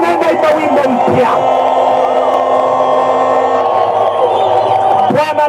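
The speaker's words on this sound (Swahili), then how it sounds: "Vigelegele vya amani" Rally crowd in Beni giving sustained high trilling ululation and cheering, a loud continuous wash of many voices with shouts rising over it and swelling at the start and end.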